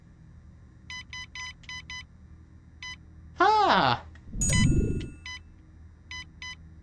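Short electronic beeps from software built in the LittleBigPlanet 2 video game, sounding in quick clusters of repeated bleeps with single isolated ones, interrupted midway by a brief voiced sound and a loud noisy burst.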